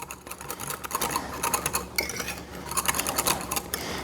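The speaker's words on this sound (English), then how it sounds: "Then we're going to whisk this up real good" Ingredients whisked briskly in a bowl: fast, steady clicking and scraping of a whisk against the sides, continuous and close, with no talking.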